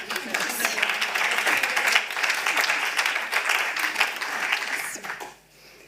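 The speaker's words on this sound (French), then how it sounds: "Juste on applaudit quand même." Audience applause at a talk on loan insurance, a dense continuous clapping wash lasting about five seconds before fading out.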